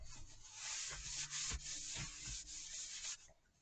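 Rag wiping the edges of a Kymco scooter air box, a steady close rubbing swish with a few stronger strokes, continuous for a few seconds before trailing off.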